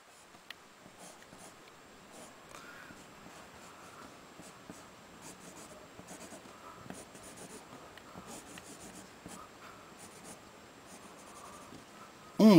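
Pencil scratching on paper while drawing a box shape, a steady run of light strokes and scrapes, close and quiet, ending with a sudden louder knock.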